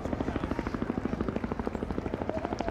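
A helicopter flying overhead at the Goodwood Revival motor racing event: a loud, close, steady rotor thump pulsing rapidly and evenly throughout, with a slight crowd background.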